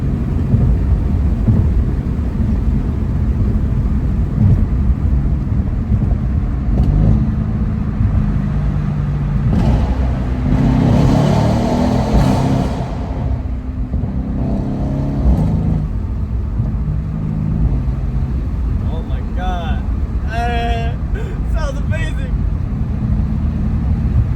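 A Mercedes C63 S Cabriolet engine drones and surges through an echoing tunnel, swelling loudly partway through, with some talking over it.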